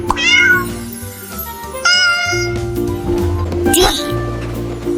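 A cat meows a few times over a loud musical backing with a sung melody, the meows bright and near, standing out above the music.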